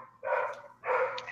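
A border collie barks twice in quick succession, two loud close yaps about half a second apart, with no talking over them.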